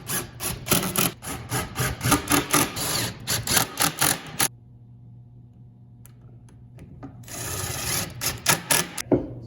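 A power driver sinks pocket screws into a wooden cornhole board frame held by a clamp, giving close bursts of loud rasping whir with brief pauses between screws, then a quieter stretch before driving resumes.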